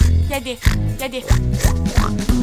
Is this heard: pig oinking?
yes